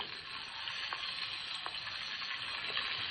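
Fish frying in a wok with whole garlic, stalks included, and green chilies, giving a strong, even sizzle throughout with a few faint clicks of stirring; nobody speaks.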